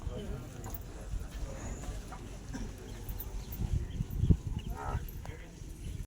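Cattle, including buffalo, low now and then amid a busy outdoor crowd at a village cattle fair, with murmured voices and general bustle around the animals.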